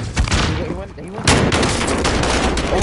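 Shotgun blasts in a Call of Duty match, loud and close, with a first burst of shots followed by a heavier roaring volley of gunfire under a brief voice.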